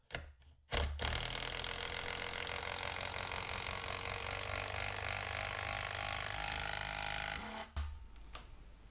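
Makita impact driver sinking 3.5 inch 7/16 lag bolts: a loud, steady rattling hammer that runs for several seconds without a break and then cuts off abruptly, close up, with no talking.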